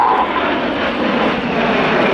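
Red Arrows jets fly a Vixen roll at the RAF Cosford Air Show, a loud, continuous roaring wash of jet noise held steady across the clip without a break.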